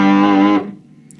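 An electric guitar run through an MXR Classic 108 Fuzz Mini into a Boss Super Octave holds one thick, buzzy note for about half a second, then cuts off into a low, faint decay.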